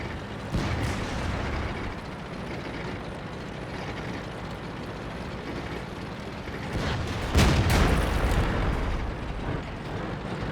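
Tank cannon fire in World of Tanks around an IS-3, with two heavy booming shots, one near the start and a louder one later, set against a constant low rumble of engine and battlefield noise.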